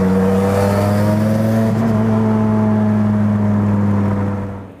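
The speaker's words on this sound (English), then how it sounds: "a ride in this gorgeous 1998 Dodge Viper GTS Turbocharged" A 1998 Dodge Viper GTS with a turbocharged engine runs at a steady low idle, its deep rumble and tonal drone close and loud, holding even throughout before tapering off at the end.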